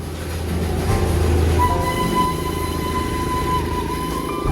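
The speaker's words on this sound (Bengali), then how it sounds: "দার্জিলিংয়ে পৌঁছানো মাত্রই প্রথম দেখা পেলাম দার্জিলিংয়ের হেরিটেজ সেই ধোঁয়া ছাড়া টয় ট্রেন।" The Darjeeling Himalayan heritage steam toy train rumbles along close by, a steady loud mechanical roar with a long tonal whistle running through the middle.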